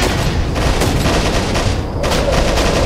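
Dense, continuous gunfire from the PS3 game Modern Combat: Domination, with rapid shots and booming blasts, loud and close throughout, with no talking.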